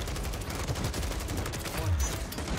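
Rapid bursts of gunfire in Call of Duty on Rebirth Island, a dense rattling fusillade of shots running continuously at moderate loudness with a deep thump near the end.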